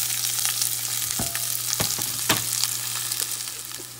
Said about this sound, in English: Once this splatter, add the curry leaf. Now add your onions and green chilli.